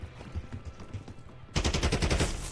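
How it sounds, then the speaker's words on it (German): Gunfire in a Call of Duty Black Ops 6 match, with scattered single shots at first and then a dense, loud burst of rapid automatic fire that fills the last second. "Ich höre Schüsse, ich verstehe gar nichts."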